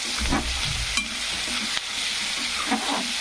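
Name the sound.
potatoes frying for pulao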